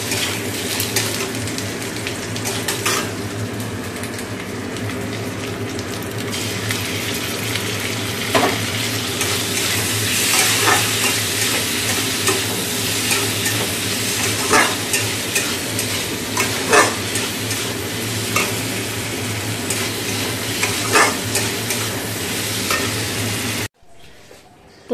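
Onion and potato sizzle steadily in a hot pan for a fish curry, a continuous frying hiss broken by occasional stirring scrapes, close and fairly loud before cutting off abruptly at the end.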